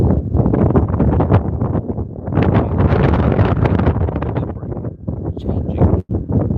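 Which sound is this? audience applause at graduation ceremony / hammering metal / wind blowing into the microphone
wind blowing into the microphone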